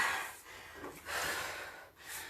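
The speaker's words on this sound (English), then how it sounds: "Take some deep breaths" Deep, heavy breaths during a quiet no-noise home workout, a few breathy gasps and exhales rising and falling over a couple of seconds, close and fairly soft with no talking.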